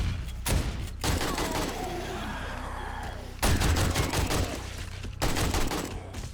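Automated turrets firing on zombies during a horde night in 7 Days to Die, Alpha 19: dense, sustained bursts of gunfire overlapping into a loud continuous fusillade, with brief lulls and renewed volleys.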